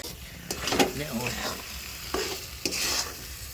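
A spoon stirs kheer filling made with date palm jaggery in a pan, giving close scraping strokes and brief clacks at intervals over a soft bubbling sizzle, with no voices.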